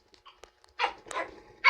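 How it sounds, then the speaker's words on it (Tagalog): A dog barking indoors, a few sharp yips and barks in quick bursts, close and fairly loud between short quiet gaps. "Ang ingay ng aso."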